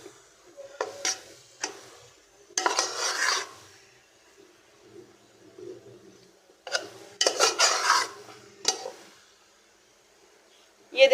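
Besan roasting in a pan for halwa, stirred and scraped with a spoon in bursts of rasping strokes separated by quiet pauses, close and fairly loud.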